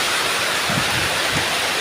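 Steady rain falls outdoors in Quezon, a dense, even hiss of drops close by, with no voices over it.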